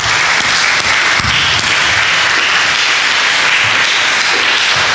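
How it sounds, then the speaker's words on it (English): An audience at a varsity awards event claps loudly and steadily for the coaching staff, a dense unbroken applause. "So how about a round of applause for the coaching staff?"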